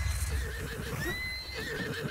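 A horse whinnies in The Legend of Zelda: Breath of the Wild, a rising, quavering neigh in the middle over a steady game background with faint clip-clop.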